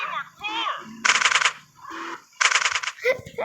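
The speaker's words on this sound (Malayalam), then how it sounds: "അവനെ വെടിവെച്ചിടാൻ നോക്കിയത് പറ്റിയില്ല." Bursts of rapid automatic gunfire crackle loudly in GTA San Andreas during a race, two sharp volleys separated by other game sound effects.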